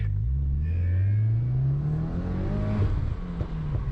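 Stock 2020 Subaru WRX engine accelerating hard on a wet autocross lap, a loud close rumble climbing in pitch, then dipping and surging again as the car works through the course.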